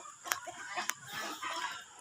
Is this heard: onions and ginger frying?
no